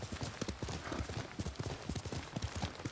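Horse hooves in Ghost of Tsushima, a close, rapid run of clip-clop hoofbeats in a steady galloping rhythm with no speech.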